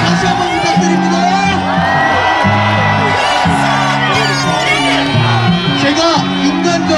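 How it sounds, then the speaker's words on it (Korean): Crowd at a Korea University rally against impeachment, cheering and whooping loudly up close, with a voice booming over a loudspeaker on top of the noise. "큰 박수 다시 한번 부탁드립니다"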